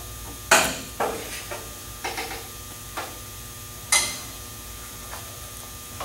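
Aluminum rivets, 1/8 inch grip with large heads, drop one at a time into holes in an aircraft vertical stabilizer, giving several sharp metallic clinks and taps at irregular intervals in a quiet room.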